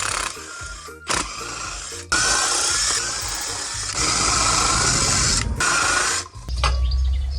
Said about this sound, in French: ensuite tu termines ça avec une grosse visseuse